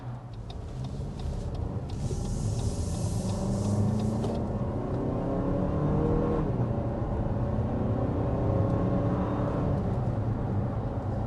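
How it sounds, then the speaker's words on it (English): A 2023 Lexus NX 350 SUV accelerates, heard from inside the cabin as a rising engine hum and road rumble that builds and holds, with a brief hiss early on and no talking. "the torque really pushes you back in your seat on this model, that 317 pound-feet"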